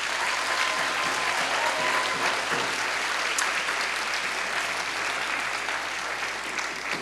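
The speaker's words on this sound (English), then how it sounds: "if we can just give a round of applause to Jen" An audience at a Take Back the Night event at Humber College applauds steadily for the sexual violence coordinator, a dense, sustained wash of clapping from a full room that carries on for several seconds.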